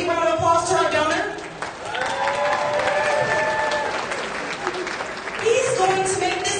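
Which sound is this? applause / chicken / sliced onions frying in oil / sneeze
applause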